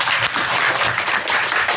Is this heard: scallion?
no